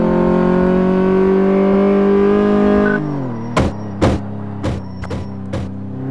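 Car engine in Car Mechanic Simulator 2014 heard from inside, a loud steady droning hum that drops in pitch, followed by several sharp clicks or knocks and a quieter idle.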